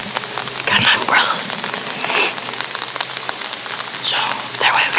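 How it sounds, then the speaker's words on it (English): Rain falling steadily around a hunting tree stand in the woods, a dense continuous patter of drops on surfaces, close and fairly loud, with some brighter splashes standing out now and then. "it's raining"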